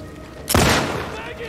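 A single loud gunshot rings out in the video game The Last of Us Part II, a sharp blast followed by a decaying echo.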